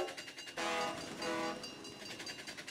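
Trains rush past in a miniature golf video game, their clattering rumble swelling loudly and then fading, with a rhythmic clicking underneath.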